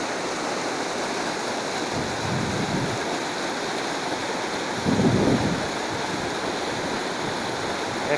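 Mountain stream water rushes through the San Gregorio gorge at Aldeanueva de la Vera, a loud, unbroken roar with occasional low wind buffets against the microphone.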